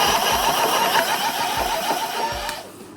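An electric bike's motor, upgraded with a new controller and display, works hard under load at assist level seven. It makes a steady whine with low rhythmic thumps, close and loud, fading slightly at the end.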